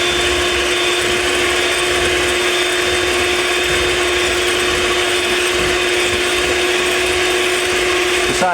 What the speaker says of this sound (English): I always mix the whites first, because once again you don't want contaminated beaters beating up your whites